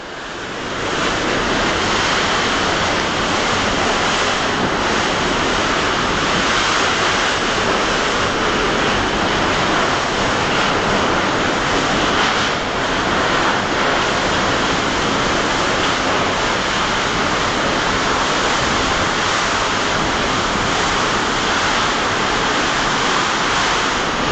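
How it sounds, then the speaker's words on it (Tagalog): Loud, continuous roar of wind-driven rain and gusting wind, a dense unbroken wash of noise with no voices. "hanggang dito sa loob napakalakas ng tubig. Gawa ng napakalakas ng hangin."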